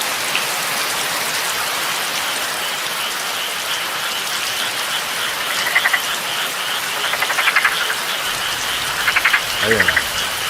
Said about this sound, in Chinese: 好像有青蛙在叫吧？